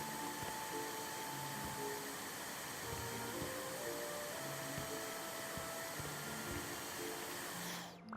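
A vacuum cleaner runs in the House Flipper 2 video game, a steady, faint whooshing drone with soft tonal hums that continues unbroken for several seconds before cutting off at the end.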